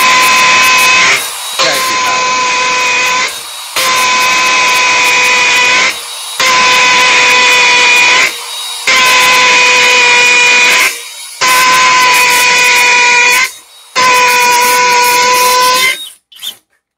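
A Milwaukee power tool drills into concrete in loud, sustained bursts of whining, hissing grind, about seven runs of one to two seconds each separated by short pauses, ending abruptly.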